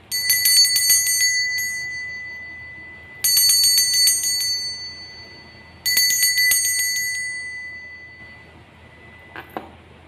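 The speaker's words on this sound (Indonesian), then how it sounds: "kita akan melanjutkan dengan lonceng berbunyi." A small bright bell is struck in three separate bursts of rapid ringing, each about two seconds long and followed by a slow fade, then a faint final ding near the end, with no voices.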